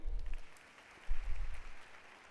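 An audience claps at a school board meeting in two short bursts of applause, moderately near and fairly quiet, with a brief lull between them.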